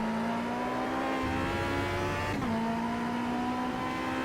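A race car engine drones steadily in the Automobilista sim racing game, an Aussie V8 Camaro-style touring car at Adelaide, holding high revs with a brief dip like a gear change midway, loud and continuous, no talking.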